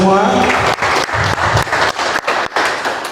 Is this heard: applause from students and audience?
yes